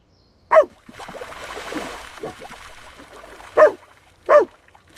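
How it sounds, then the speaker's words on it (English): A dog barks three times, loud and close, in sharp separate bursts with a soft rustle and shaking noise between them, from an AI-generated scene of a wet dog shaking off water. "The dog turns to the lens, shakes the water off and steps forward, and there's a bark in the audio."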